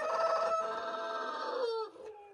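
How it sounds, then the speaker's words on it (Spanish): A rooster crows once in a long, hoarse, drawn-out call, fairly close and loud, trailing off at the end. "La primera vez que escucho cacarear a mi gallo,"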